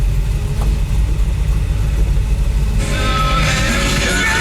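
A 1965 Chevelle idles steadily with a low, even rumble, close and loud, then a brighter, rougher engine note takes over partway through.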